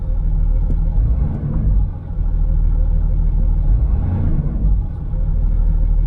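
A Land Rover engine idles smoothly after repair, a steady low rumble held close and even with only slight dips in level.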